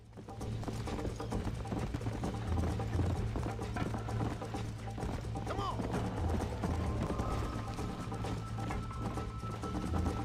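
Rhythmic hoofbeats of a galloping horse in Red Dead Redemption, steady and fairly quiet under game ambience and music-like tones, continuing for the full span.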